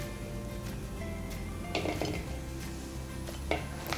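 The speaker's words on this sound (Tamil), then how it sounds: "இது வந்து நல்லா மொறுமொறுப்பாக ஆகிற அளவுக்கு இதை வறுத்துக்கணும்" Seedless tamarind roasts in oil in a pan while a spoon stirs it, giving a soft steady sizzle under scraping and a few sharper clinks of the spoon against the pan.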